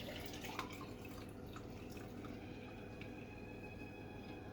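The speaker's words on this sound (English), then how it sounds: "I'm just going to pour the kefir water in with the apple juice" Kefir water is poured into a jar of apple juice, a faint, soft trickle and dripping of liquid in a quiet room.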